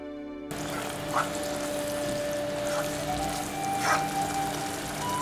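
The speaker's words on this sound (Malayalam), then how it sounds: "ഇതിലേക്ക് ഗ്രേവിക്ക് ആവശ്യമുള്ള ചൂടുവെള്ളം ചേർത്ത് കൊടുക്കാം." Hot water is poured into a pan of onion-tomato gravy for Kerala-style egg roast, a steady quiet splashing stream with a couple of soft bubbling pops, no voices.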